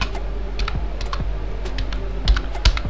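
Quick clicks of someone typing a short word on a computer keyboard, steady light keystrokes with two slightly louder final presses, no voices.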